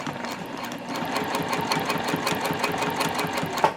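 A sewing machine runs steadily, stitching the seams of a zip top tote with a fast, even mechanical clatter at close range, ending in a small click.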